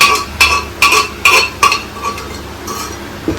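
Moong dal cooked with papaya is stirred in a pot, the spoon scraping and clinking against the metal in a steady run of five or six close strokes before settling into a soft bubbling simmer.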